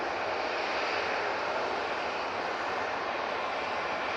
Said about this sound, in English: Next out, we've got this Jet2 A321neo going off to Mahon.